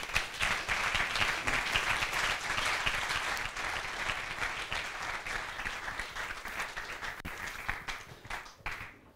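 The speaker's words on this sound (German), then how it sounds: "dann nochmal Applaus für euch" Audience applause at an evening talk on internet politics, a dense, lively round of clapping from a crowd that gradually thins and fades out toward the end.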